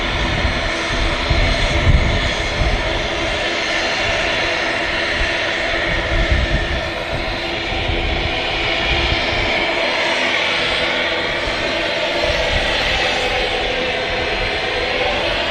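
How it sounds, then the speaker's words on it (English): Aer Lingus ATR 72 turboprop taking off on runway 23 right at Manchester Airport, a loud steady engine roar sustained throughout without talk, with a slowly shifting tone as the aircraft moves. "Aerolingus ATR 72 taking off on runway 23 right."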